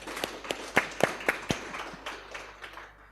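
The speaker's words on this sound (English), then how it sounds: "I think he deserves another hand clap." Scattered hand clapping from a small audience at a health symposium, a handful of distinct sharp claps that thin out and fade over a few seconds.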